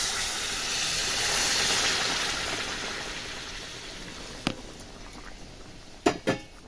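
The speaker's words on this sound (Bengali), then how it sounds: "এবার আমি জল গরম করে নিয়েছি, সেই গরম জলটাকেই এবার এর মধ্যে দিয়ে দেব।" Hot water poured into fried spiced masala for a stingray curry makes a loud rushing hiss that fades gradually, followed by a few sharp utensil clanks near the end.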